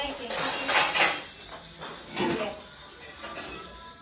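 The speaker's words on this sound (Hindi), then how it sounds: "अच्छे से सारे बर्तन साफ करके लगा दिया इधर" Clean steel dishes and cutlery clatter and clink as they are set in place in a home kitchen, with repeated close metallic knocks and rattles in uneven bursts.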